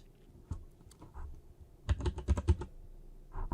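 Typing on a computer keyboard, with scattered soft key taps early on and then a quick, louder cluster of clicks midway, close and clear in a quiet room.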